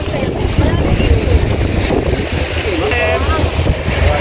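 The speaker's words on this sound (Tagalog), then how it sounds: "Sobrang taas ng alon guys" High ocean waves wash against a boat out at sea near Puka Beach, a steady loud rush of water and wind buffeting the microphone throughout, with a voice briefly audible.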